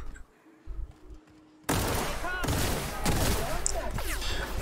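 Gunfire erupts in The Outer Worlds video game after a quiet stretch, a dense, loud burst of rapid shots that continues to the end.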